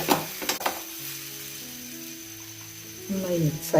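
Masala frying in a pan for raw mango chutney, soft sizzling under a low hum, with stirring scrapes at the start and end.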